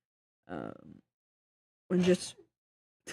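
A single sharp sneeze bursts out close by, a short explosive blast that stands alone after a brief vocal sound and a stretch of silence.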